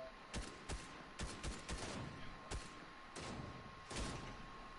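Video game sniper fire sounds as repeated sharp shots and thuds at an irregular rhythm, fairly loud, with gameplay noise throughout.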